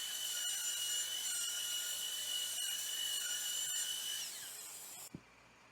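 Dental rotary drill preparing a tooth for a posterior metal-ceramic crown, heard as a steady high-pitched whine running for about five seconds before cutting off, close and alone.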